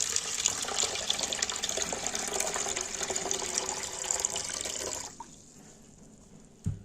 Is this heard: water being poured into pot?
yes